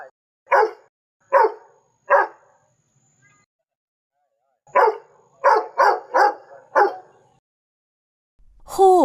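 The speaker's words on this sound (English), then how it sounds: "Dog." A dog barks sharply and close, three single barks, a pause, then a quick run of five more, followed by a brief yip at the end.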